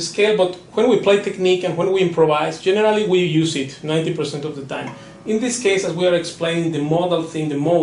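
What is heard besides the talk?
No distinct noise like a dog, phone or traffic.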